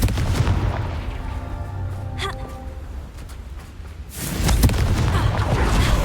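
A Confringo fire spell goes off in Hogwarts Legacy, a booming blast with a rushing burst, then a second loud explosive roar rising near the end.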